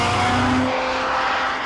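A Mazda RX8's 1.3-litre Wankel rotary engine, rated at 228 brake horsepower, runs close by with a smooth, steady mechanical drone and a brief higher tonal whine, with no talking.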